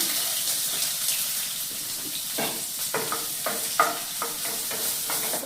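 Chopped onion sautéing in hot coconut oil in a home kitchen, a steady broadband sizzle with repeated scraping stirs of a spoon against the pan, close and alone with no talk.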